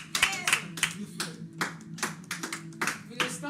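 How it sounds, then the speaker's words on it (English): A crowd claps in applause at a contest winner announcement, with sharp, uneven bursts of hand claps rising and falling over a few seconds, while murmured talk continues in the background. "and a clapping ovation,"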